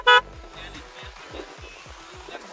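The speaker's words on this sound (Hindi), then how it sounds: "देन इसमें HGG के हॉर्न लगाए जो मैं आपको दिखा देता हूँ," An HGG horn fitted to a KTM RC motorcycle gives one short, loud toot, followed by a rhythmic mechanical pulsing and faint background noise.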